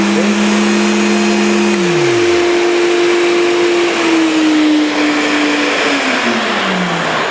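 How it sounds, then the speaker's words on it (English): A loud, steady vacuum cleaner whine runs throughout with pitch shifts as a sander spins down and the suction motor's tone gradually drops. "as soon as you start your sander, it will kick in the vacuum cleaner"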